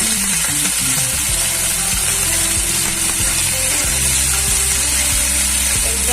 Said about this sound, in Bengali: নাড়াচাড়া করে কিছুটা ভাজা ভাজা করে নামিয়ে ঠান্ডা করে